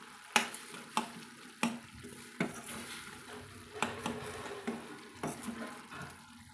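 Cabbage side dish cooking in a pan with added salt, a soft sizzle and bubbling beneath repeated sharp clinks and scrapes of a utensil stirring against the pan.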